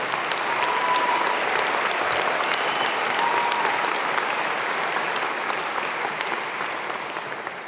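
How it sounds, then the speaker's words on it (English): A large audience at a university's 155th commencement ceremony applauds its graduates, a dense, sustained wash of clapping from a big crowd that holds steady for several seconds and eases slightly at the end. "let's give our graduates a round of applause"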